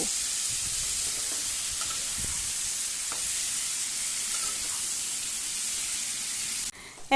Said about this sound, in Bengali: এর মধ্যে দিয়ে দেব ঝিঙে মিনিট পাঁচেক ধরে নাড়াচাড়া করে এটা কষাতে থাকবো